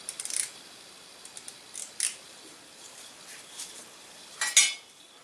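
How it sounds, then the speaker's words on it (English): A part being screwed onto a freshly oiled AK-47 rifle during cleaning, with faint scattered metallic clicks and scrapes close by and a louder rattle near the end. "We'll just screw that on."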